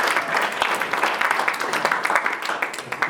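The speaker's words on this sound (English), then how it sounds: "give them a round of applause" Audience applause at a media summit session, a dense steady wash of many hands clapping in a hall, sustained and fairly loud throughout.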